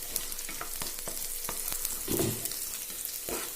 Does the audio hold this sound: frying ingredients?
yes